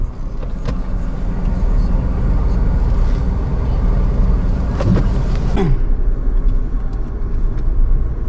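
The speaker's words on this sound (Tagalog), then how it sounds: "Sir, may motor sa likod doon." A motorcycle passes on the road behind, a steady close engine rumble with a brief swell near the middle, under traffic noise and no talk.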